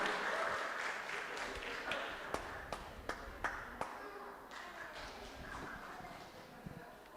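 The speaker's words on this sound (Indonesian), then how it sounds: "Tepuk tangan sekali lagi yang sangat meriah." Residents clap at a community inauguration ceremony in a hall, a moderate spread of applause with a few sharper individual claps standing out, heard fairly distant, with a voice over it.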